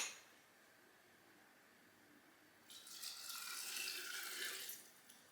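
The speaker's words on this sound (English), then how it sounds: "now we're just going to pour the apple cider vinegar over" Apple cider vinegar poured over chilli and smoked paprika ingredients for a farmhouse fire water infusion: a faint, quiet stretch, then a soft splashing pour for about two seconds that tapers off.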